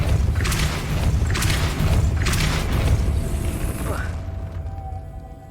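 Depulso force spell cast in the Hogwarts Legacy video game, a series of loud booming blasts with mechanical clatter over a rumbling game soundtrack, fading to a low hum at the end.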